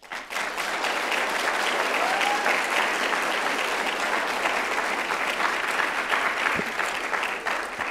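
Graduates applauding themselves at a 2019 College of Health Related Professions convocation, a large crowd's sustained, even clapping that rises quickly and carries on for several seconds.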